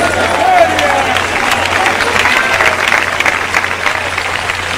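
A church congregation at an evangelistic service applauds loudly and continuously, a dense crowd of clapping hands mixed with murmuring voices and a little cheering, sustained for several seconds.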